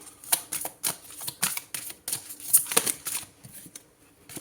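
Tarot-style cards are shuffled and handled during a horoscope reading, giving a close series of crisp, uneven riffling and flicking taps with no talking.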